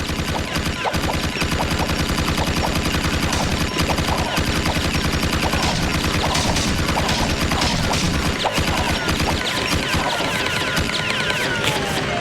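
Rapid, continuous automatic gunfire from the Vulcan gun in the video game Jak, dense bursts of rattling shots layered over game sound with no pauses throughout.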